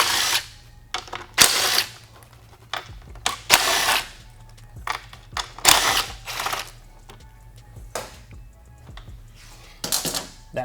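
Four 8mm-head fasteners being worked loose from a bracket on a 2008-2011 motorcycle, heard as repeated close bursts of ratchet clicking and metallic handling with short pauses between them, with no talking.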